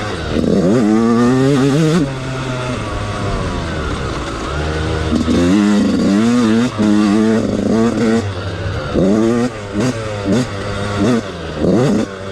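A Yamaha YZ 125 two-stroke dirt bike engine, an older model, revs repeatedly in rising and falling bursts with a raspy buzzing whine, loud and near, without anyone talking.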